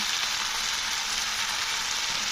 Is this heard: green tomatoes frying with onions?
yes